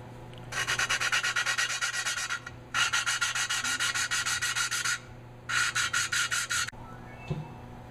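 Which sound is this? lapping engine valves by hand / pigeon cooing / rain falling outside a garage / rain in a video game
lapping engine valves by hand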